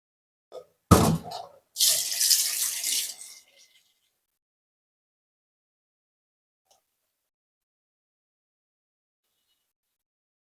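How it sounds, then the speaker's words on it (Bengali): Tap water running into a pot for boiling eggs, a short burst then a couple of seconds of gushing flow, close by, followed by near silence. "ডিম তো ধোয়া খালি পানি দিলে হবে"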